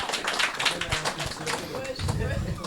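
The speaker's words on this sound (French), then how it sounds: "Voilà, qu'on peut applaudir." Audience applause for members of a film crew at a screening Q&A, a broad continuous patter of many hands clapping at steady level, with a voice speaking over it.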